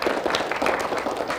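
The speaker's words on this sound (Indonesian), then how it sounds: "Kita kasih tepuk tangan dulu untuk SMP Negeri 10." Audience applause for the SMP Negeri 10 Palu team at a school quiz competition, a dense steady patter of many hands clapping throughout, fairly close and without speech over it.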